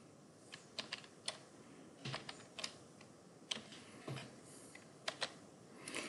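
Computer keyboard typing as a code is entered, scattered close key clicks in irregular bursts over a quiet background, no talking.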